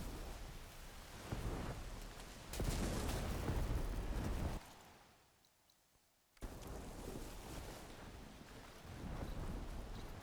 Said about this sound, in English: I don't know how I would necessarily stop the rain